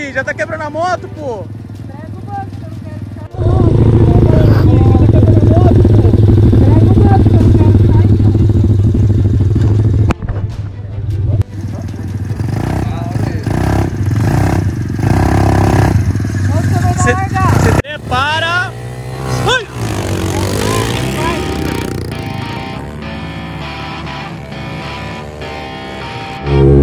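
Minimoto motorcycles racing with passengers riding pillion: small engines rev loudly and rise and fall in pitch for most of the clip, while people shout over them.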